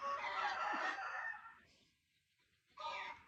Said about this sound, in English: All those chickens, man, they're just laying eggs like crazy.